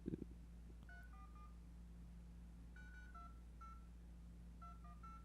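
Touch-tone dialing beeps from a calling app on an iPod Touch, three short clusters of quick electronic tones heard over a constant low hum, with no speech.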